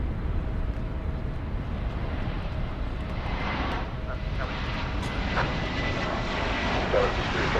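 A jet airliner roars down runway 18 Left at DFW Airport on takeoff, a loud, broad, continuous engine rumble and hiss heard from a distance, steady throughout.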